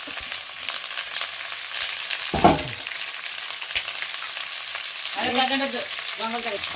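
Carrot and onion frying in oil after a tempering of seeds and curry leaves, a loud continuous sizzle with a sharp scrape of stirring partway through and a few low voiced murmurs near the end.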